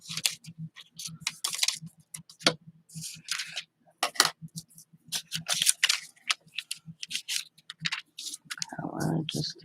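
Scissors cut guest check tags in a series of close, sharp snips and clicks with short pauses between them, and a person talks intermittently throughout.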